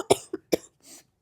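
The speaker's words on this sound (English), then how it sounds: "I'm gonna cough on you." Three sharp, close coughs in quick succession, the last one softer, followed by a brief breathy exhale.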